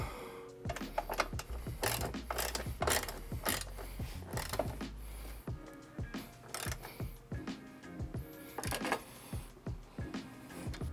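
A ratchet spins and clicks in rapid bursts while bolts are tightened on a CROW Molle overhead rack in a Jeep, close and fairly quiet, with brief pauses between runs.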